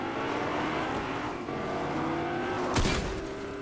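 Car engine droning steadily while driving in the video game Fortnite, with a harmonic motor hum throughout and a brief louder burst near the end, like a bump or impact.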